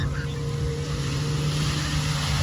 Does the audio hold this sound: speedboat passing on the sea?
yes